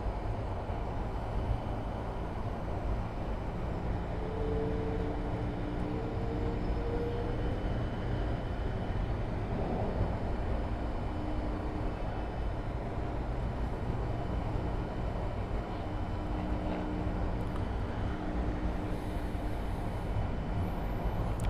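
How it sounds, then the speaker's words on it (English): Southwest Boeing 737-700 arriving on runway 12 at Miami airport, heard as a steady distant jet roar and rumble that builds slightly and holds over a long stretch, with no voices. "Next inbound on runway 12 is Southwest flight 3160 from Baltimore in Washington. That's a 737-700."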